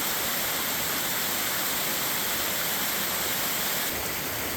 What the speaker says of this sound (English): this is actually a double-tiered waterfall